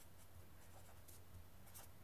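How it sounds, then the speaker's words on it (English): Pen writing a single word by hand, heard as soft, close scratching strokes in short bursts over faint steady background hum. "I'm gonna write it down here."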